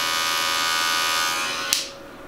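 Wahl Magic Clip metal cordless hair clipper running: a bright, steady electric buzz with strong harmonic whine, constant for under two seconds before a click and a fade as it switches off.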